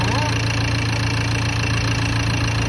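A modified Ford pickup engine idles with a rough, constant low rumble and a knocking quality, loud and close from start to finish.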